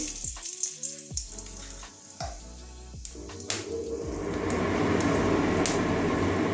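Oil crackles and sizzles in a hot pan, growing into a dense, steady frying hiss as broken dry chillies fry, after a few light clinks.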